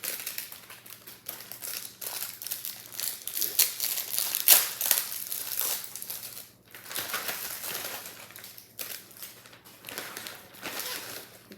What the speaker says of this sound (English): So I'm sticking them in this Ziploc bag.